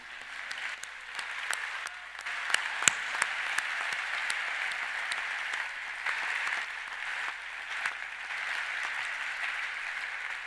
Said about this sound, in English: Please, I want that you can applaud.